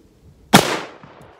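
A single sharp rifle shot fired outdoors, loud and near, with a decaying rumble trailing off for about half a second and no talking.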